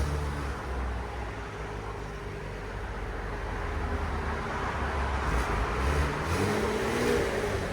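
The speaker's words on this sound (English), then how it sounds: "2017 Chevy Camaro V6. That's what it sounds like before." A 2017 Chevy Camaro V6 on its stock exhaust runs with a smooth, fairly quiet drone that swells slightly as it revs partway through, heard alone without talk.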